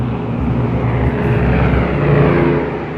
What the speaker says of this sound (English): I heard the roar of a plane.